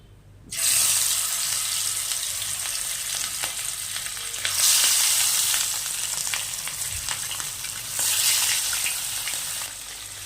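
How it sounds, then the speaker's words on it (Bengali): Pieces of katla fish dropped one by one into hot oil, bursting into a loud, dense, close sizzle that starts abruptly and swells in waves as each new piece goes in. "এখন আমি মাছের পিসগুলো ছেড়ে দেব একটা একটা করে।"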